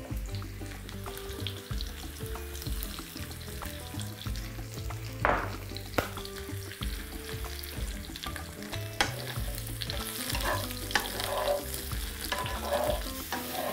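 Salted mushrooms fry in a pan with a continuous sizzle, broken by repeated scraping and clattering as a utensil stirs them close up; no one speaks.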